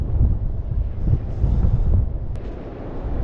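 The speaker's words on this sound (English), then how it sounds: "it's getting windy and there's a definite chill in that wind" Wind gusting on an open coast at Speeton, buffeting the microphone with heavy low rumbling blasts that rise and fall in irregular surges.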